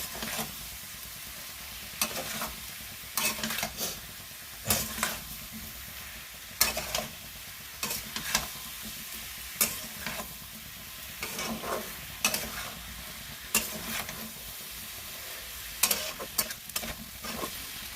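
Spinach with prawns sautés in a pan on a home stove, sizzling steadily while a spatula scrapes and stirs in repeated short bursts, close and clear with no talking.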